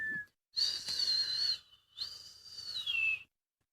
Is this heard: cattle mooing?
no